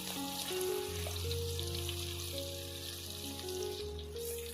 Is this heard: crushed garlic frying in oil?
yes